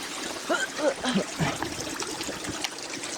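Creek water trickling steadily along Taylor Creek outdoors, a continuous soft rushing babble, with a brief faint voice early on.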